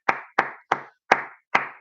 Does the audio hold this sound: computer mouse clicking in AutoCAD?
no